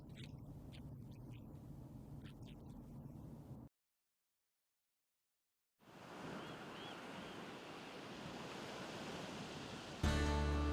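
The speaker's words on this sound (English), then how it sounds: "Is it the green and blue surf on a brilliant sunny day, or angry, boiling waves during a raging" Ocean surf breaking on the Oregon coast, a broad steady roar of waves with wind, cutting out into silence for a couple of seconds before the rushing wash returns louder.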